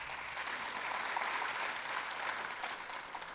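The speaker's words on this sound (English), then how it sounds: "So round of applause for" Audience applause at a radio technology conference, a steady wash of clapping that holds at an even level throughout without pauses.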